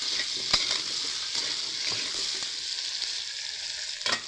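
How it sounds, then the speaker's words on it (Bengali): Steady frying sizzle of potatoes in a pan, continuous crackle with a few sharper pops and stirring scrapes, close and fairly loud, no voices. "চলুন আলুগুলো লাল লাল করে ভালো করে ভেজে নিই"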